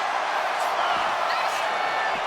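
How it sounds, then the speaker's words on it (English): Capacity arena crowd in WWE 2K26 during a Hell in a Cell match, a steady, dense roar of cheering that holds without a break, with a few faint louder swells. "listen to this capacity crowd"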